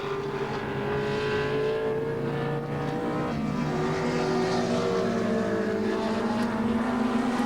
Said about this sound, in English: Bowie's making that Sierra fairly wide